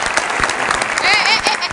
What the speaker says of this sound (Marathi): जोरदार टाळ्या त्या सगळ्या गावकऱ्यांसाठी.